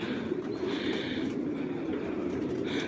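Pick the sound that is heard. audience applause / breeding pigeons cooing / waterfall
breeding pigeons cooing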